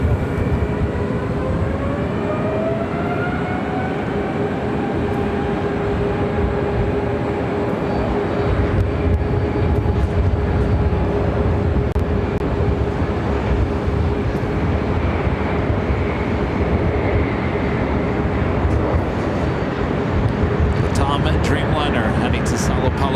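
A Boeing 787 Dreamliner takes off at LAX with a long, rising jet roar, a whining tone gliding upward early on, growing louder toward the middle and staying strong as the aircraft departs.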